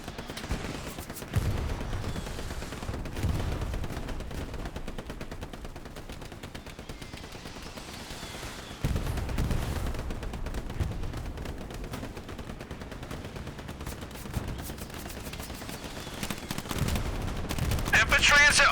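Sustained gunfire in a war video game, a steady rattle of distant shots broken by a few heavier, louder bursts, with voices shouting in the background.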